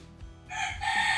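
A rooster crows once, fairly faint and a short distance away, its call rising in a bright drawn-out cry.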